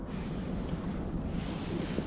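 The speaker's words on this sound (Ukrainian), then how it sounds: "Вітер боковий, тому буде отак" Steady crosswind buffets the microphone in a low, continuous rumble while fishing from a boat on a lake, with faint water lapping mixed in and nobody speaking.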